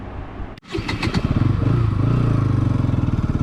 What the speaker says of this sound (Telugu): ఎన్ఎస్ 200 బైక్ మైలేజ్ టెస్ట్ చేద్దామని తీసుకొచ్చాం